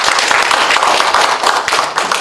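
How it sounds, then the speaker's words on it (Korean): A lecture audience at a Rotary leadership talk claps, dense and loud, a steady patter of many hands close by that carries through the short stretch without pause. "박수 한번 주시죠."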